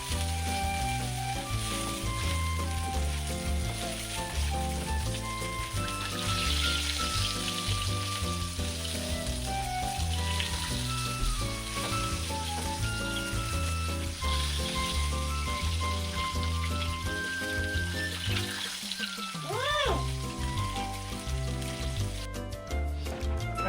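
Fish frying in a pan for a family Sunday meal gives off a loud, continuous sizzle and crackle, close and steady throughout, with tonal background sounds and no talking.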